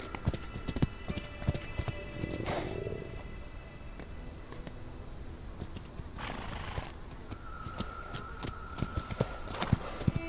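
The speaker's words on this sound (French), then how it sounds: "Ça monte un poney." A ridden pony's hooves clip-clop across the ground with an irregular rhythm, mixed with snorts and scuffing sounds from the animal and some rustling nearby.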